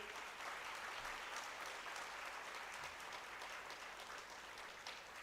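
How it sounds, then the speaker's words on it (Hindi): Sustained applause from an audience at a yoga centre event, steady and fairly loud throughout, many hands clapping together with no voices standing out. "एक बार तो उनके लिए जोर से तालियां बजाइए।"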